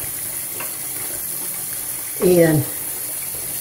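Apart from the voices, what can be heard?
hot water running from a tap into a sink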